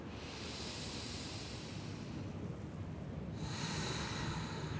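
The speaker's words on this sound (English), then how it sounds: "just do it with the lips sealed now on the exhale" Steady, breathy ujjayi exhale through sealed lips with the throat gently constricted, a continuous soft ocean-like hiss held close for several seconds and briefly renewed partway through.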